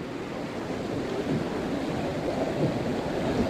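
Floodwater rushing down a river at Kalaktang, a steady broadband roar that stays loud and constant throughout with no voices.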